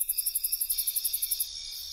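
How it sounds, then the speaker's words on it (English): A crickets chirping sound effect: a rapid, regular pulse of high chirps that stops after about a second and a half, leaving a thin continuous trill. No voices are present. "crickets."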